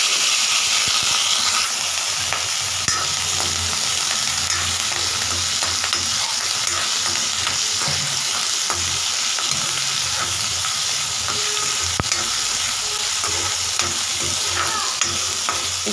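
Mustard seeds and asafoetida fry in hot mustard oil with a steady, close, continuous sizzle and hiss throughout, without talk.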